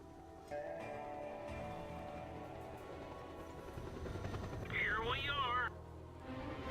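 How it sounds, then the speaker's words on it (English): A Pell Silverbolt helicopter in Just Cause 2 coming down onto a helipad, its steady rotor and engine drone running throughout under a voice. "So I come back here and land on the helipad, where we'll take off in another Pel Silverbolt."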